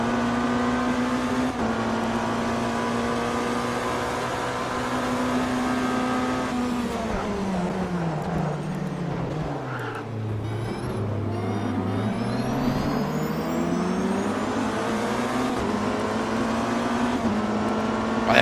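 Race car engine in the Automobilista 2 racing game, a loud sustained harmonic drone that holds steady, dips in pitch as the car slows around the middle, then climbs again through the gears, with no talking.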